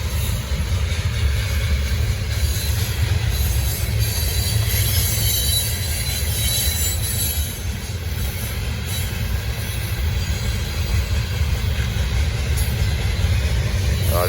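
Freight train led by two C6M locomotives, with two ACE units as mid-train DPU, gathering speed: a steady, loud rumble of rolling wagons and wheel noise with faint high squeal, continuous throughout.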